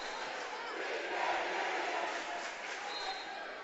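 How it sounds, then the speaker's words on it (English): A Columbia basketball crowd at a district championship game roars and cheers steadily from the stands, a broad sustained wash of voices filling the gym. "Columbia's crowd coming in."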